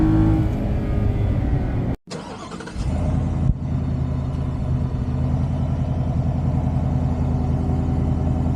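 Stock exhaust of a 2024 Ford F-150 with the 5.0 Coyote V8, heard from inside the cabin: a steady low rumble with a brief dropout as the engine restarts, then resumes idling smoothly.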